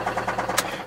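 A damaged Hyundai Click engine idles close by with a rapid, regular rattling knock of about five beats per second and a sharp click partway through.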